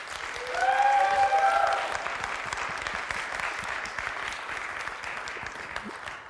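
An audience at an innovation pitch competition applauds to vote for a pitch, a broad sustained clapping that swells early with a few whoops and then holds steady through to the end.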